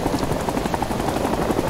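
Helicopter rotor chop from the Plastic Army Men Invasion beach battle game, a steady dense whir filling the whole moment at constant loudness, with no pause or change.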